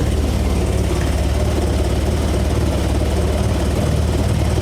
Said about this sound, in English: So I'm gonna bring the idle up a little bit.